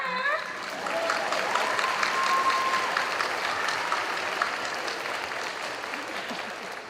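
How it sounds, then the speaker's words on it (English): Graduation ceremony crowd applause for a class of 2025, a broad steady wash of clapping that swells and then slowly fades, with a few voices and whoops rising briefly near the start. "So big round of applause for her."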